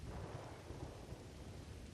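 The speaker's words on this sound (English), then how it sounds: "The water fell ceaselessly from the sky. Terrible storms lashed against the land." A thunderstorm sound effect for an animated Bible flood story: a low, continuous rumble of thunder rolls beneath a steady wash of heavy rain, dense and unbroken throughout.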